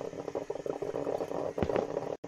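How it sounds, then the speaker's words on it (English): A coffee machine brews in the horror game One Late Night, a faint, steady bubbling gurgle that runs for about two seconds before briefly cutting out. "Is that the coffee machine?"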